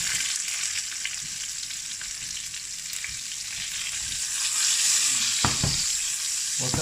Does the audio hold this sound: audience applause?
no